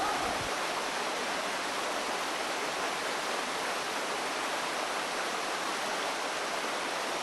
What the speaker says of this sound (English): The nice sound of the waterfall.